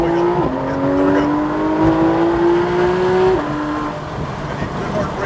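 A Porsche GT3 RS on the track at New Hampshire Motor Speedway, its engine note rising steadily through the gears with a clear shift partway through, loud and close from inside the car.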